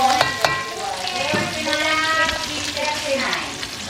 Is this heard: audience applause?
no